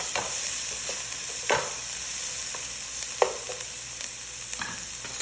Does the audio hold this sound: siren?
no